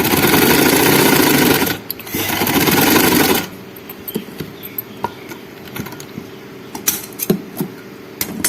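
A sewing machine stitches pleats into fabric with loud, fast whirring runs in two bursts, followed by quieter clicks and taps of the machine and cloth being handled, with no voices.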